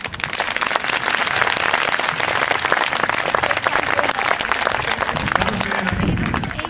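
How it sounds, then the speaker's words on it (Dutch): Loud, dense applause from a crowd at an Equiday horse event, greeting the Two Lazy Seven Ranch demonstration team, sustained evenly for several seconds with a faint voice near the end. "Een geweldig applaus voor Two Lazy Seven Ranch."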